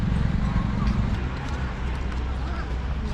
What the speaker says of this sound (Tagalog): Tingnan namin yung mga kabayo.